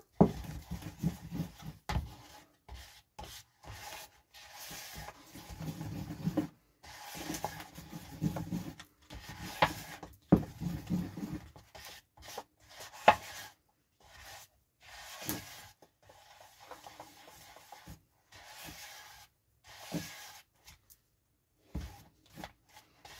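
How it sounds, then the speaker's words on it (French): Terrazzo powder mix stirred and scraped around the sides of a container, giving close, irregular bursts of scratchy scraping and rubbing separated by brief pauses, with no talking. "On mélange bien, on fait en sorte qu'il n'y ait pas de grumeaux"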